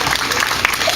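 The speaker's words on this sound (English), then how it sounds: "So a big round of applause for those folks." An outdoor audience at a ribbon-cutting ceremony in a New Westminster, B.C. waterfront park applauds in a brief, dense burst of many hands clapping together.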